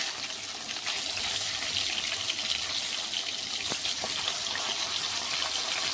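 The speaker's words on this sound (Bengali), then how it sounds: "চলো মাছটা এপিট ওপিট করে লাল লাল করে ভেজে নিই বন্ধুরা" Fish pieces sizzling in fish oil in a pan, giving a continuous, close hiss and crackle that holds steady the whole time with no talk over it.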